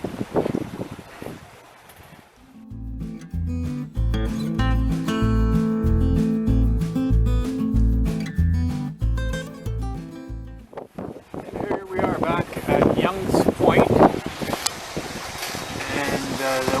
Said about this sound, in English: wind is now funneled right around, coming from the south. So I think it's just funneling through the canal system here, but boy, it's pretty strong.